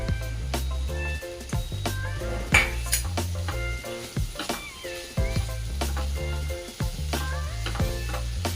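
Green peas are tipped into onions already frying in a pan for a green pea ragda, with a steady close sizzle, the scrape of stirring and the clink of a metal spoon against the pan.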